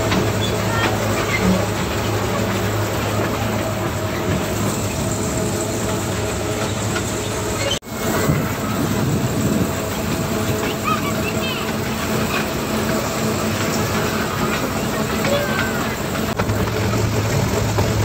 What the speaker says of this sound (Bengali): আমরা এখন টয় ট্রেন চড়ছি।